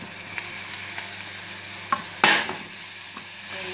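Ambarella pieces stirred into a curry mixture in a pan over steady frying sizzle, with scattered spoon scrapes and one sharper clatter midway.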